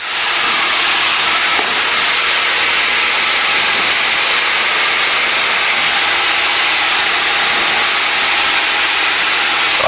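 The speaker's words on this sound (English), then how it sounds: "I'm leaning the engine, boys. If you hear a flutter, don't panic." Light aircraft piston engine droning steadily in flight, cabin recording with the mixture being leaned; loud continuous broadband roar and hiss with no pauses, no talk.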